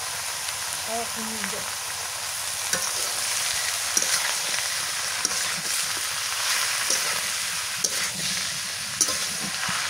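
Steady sizzling and spitting of fresh river fish frying in mustard oil with turmeric and salt, a dense continuous hiss close up with small pops throughout.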